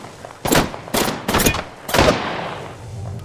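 Four gunshot bursts from an Apex Legends firefight, each a sharp broadband crack with a short tail, spaced roughly half a second apart, loud and close over a low background hum.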